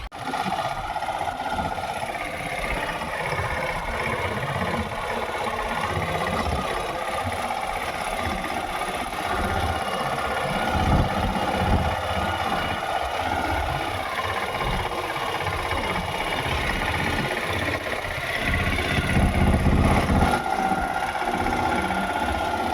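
A tractor engine idles in a steady, close, continuous rumble with a faint rattle and slight swells in level, running alone without any talk.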